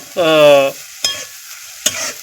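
Spice masala sautés in oil in a pan for shev bhaji, a short tonal squeal followed by two sharp spatula clacks over a soft sizzle.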